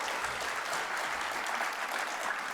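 Conference audience at an AusCERT cybersecurity speed debate applauding, a dense steady wash of clapping from many hands throughout, fairly loud and even, with no clear voices over it.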